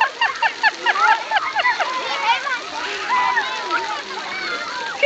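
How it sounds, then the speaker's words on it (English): Children kick and splash water at the edge of a swimming spot in short, uneven bursts, mixed with high-pitched squeals and chatter from the kids nearby. "At least they kicked water at her."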